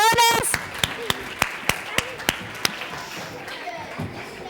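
At a children's science event, people clap for medal-winning champions in about eight sharp, evenly spaced claps after a brief spoken phrase, with a murmur of room noise and voices underneath.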